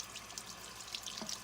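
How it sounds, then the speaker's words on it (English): Warm tap water running over a rubber stamp at a sink, a faint, steady splashing trickle with light droplet spatters, heard alone. "I'm gonna run it under warm water"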